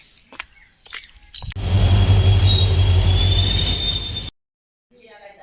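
A train on the Mysore to Mandya railway line passes close by, a loud steady rumble with high, sustained wheel squeal that cuts off abruptly, preceded by a few faint knocks.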